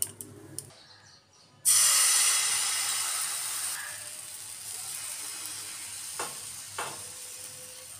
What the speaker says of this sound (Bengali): এইভাবে করে একদম সবকটা ভেজে নিচ্ছি বন্ধুরা